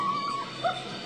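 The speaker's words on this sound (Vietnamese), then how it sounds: "Có tiếng chó sủa đấy nhé." A dog in a dark horror video game gives a brief whimpering yelp and bark over a steady background tone, heard alone without speech.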